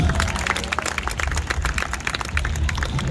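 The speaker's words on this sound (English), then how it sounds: "Let's give her a nice big round of applause" Audience applause at the Adrenaline Show, a stunt performance at the Florida State Fair 2023, a dense steady patter of many hands clapping with crowd noise throughout, fairly loud and continuous without talk.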